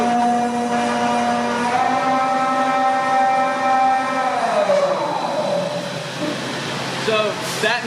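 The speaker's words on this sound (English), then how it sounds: "So that motor noise that you heard is the elevator back up." Elevator lift motor on the Verbolten coaster at Busch Gardens Williamsburg, a loud sustained whine with rising and falling tones over a steady mechanical hum, close by, with background voices of people.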